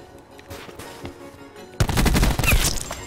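Spitfire gunfire in a video game: after a few quiet shots, a loud, dense burst of rapid automatic fire rattles on without pause.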